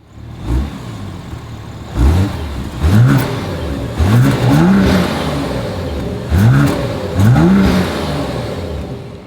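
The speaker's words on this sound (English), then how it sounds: "here is that exhaust clip" 2024 BMW X5 with dual exhaust outlets, engine blipped repeatedly from idle: five or six sharp revs in quick succession, loud and close, with no talking.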